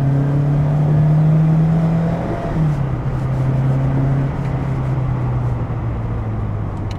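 A 1985 Renault 5 Turbo 2, a restored Japanese barn find with about 160 horsepower, driving along with a steady droning engine note that holds, shifts pitch and settles, heard from inside, loud and continuous.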